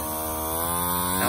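A model airplane's electric motor hums steadily at throttle while the plane holds in place, a sustained whine rising slightly at the end, close and loud with no talking.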